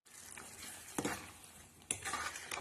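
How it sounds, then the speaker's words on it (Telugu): Spice masala fries in oil for Andhra-style tamarind fish curry, a close bubbling sizzle broken by a few sharp spoon scrapes against the pan, with no voices. "ఇలా బబుల్స్ పైకి వచ్చినంత వరకు మసాలాను వేపుకోవాలి"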